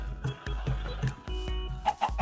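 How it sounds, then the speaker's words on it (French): Chickens cluck in a video game, a series of short repeated clucks at a moderate distance alongside game sound effects, with no speech. "j'entends un poulet par contre"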